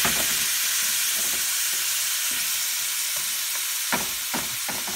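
Sausage sizzles in a hot pan as a spoonful of wine goes in, a steady bright frying hiss throughout with short bursts of spitting and stirring clatter near the end, close and fairly loud.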